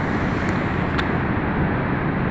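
A loud, continuous roar of rushing water at Niagara Falls, steady and unbroken, with no voices.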